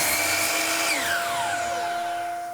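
A power saw whines steadily as it cuts through wooden interior window trim, the high tone dropping as the blade bites in and then winding down, loud and close with no talking.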